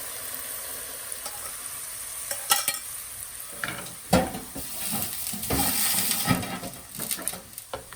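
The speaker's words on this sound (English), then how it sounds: "Add the oil to the powdered pepper and mix." Hot oil poured over powdered chili pepper bursts into a loud crackling sizzle, and scraping and clinking follow as the mixture is stirred in its container.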